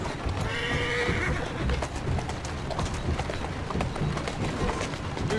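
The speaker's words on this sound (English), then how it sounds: "Who's a good horse? You are." A horse in the video game Assassin's Creed Syndicate gives a short neigh over rapid galloping hoofbeats, set against a busy, continuous game soundscape.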